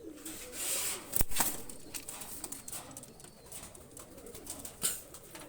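Soft cooing of a pair of Pakistani high-flyer pigeons in a quiet space, with a couple of sharp wing flaps or knocks and faint rustling.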